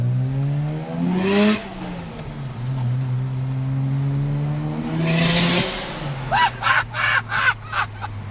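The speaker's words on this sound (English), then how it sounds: "like the big turbo thing, like the spool, like the sound of it and the noise and the whistle" A modified Mazda RX-7 engine revs and drops twice with a rising big-turbo whine and whoosh, then several sharp bursts as the throttle is blipped.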